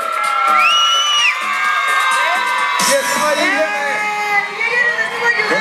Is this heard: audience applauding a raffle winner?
yes